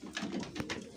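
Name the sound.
pigeons cooing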